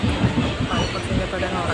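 A slow-moving passenger train heard from inside a carriage in Kerala: a steady rumbling roll of wheels on track with faint rattling, close and continuous.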